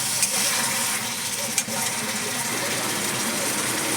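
Pointed gourd (patol) cooking in a pan gives a soft, continuous sizzle with light stirring and one brief clink, heard close and fairly quiet without talk.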